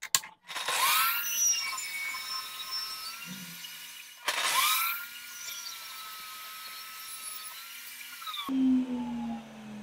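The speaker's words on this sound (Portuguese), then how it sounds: "E aí, ajustando a altura do disco, vamos cortar bem no meio" Disc saw cutting rustic wood down the middle: two loud passes, each a rising whine that drops into a steady high-pitched cutting tone, with a brief lower motor note at the end.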